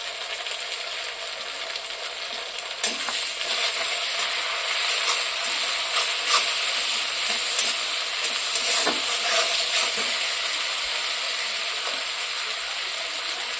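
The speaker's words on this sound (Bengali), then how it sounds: "এখন আমি আদা বাটা রসুন বাটা দিয়ে দেবো।" Ginger and garlic paste fries and sizzles in a pan while being stirred, a steady close hiss running throughout with occasional scrapes and clinks from the stirring.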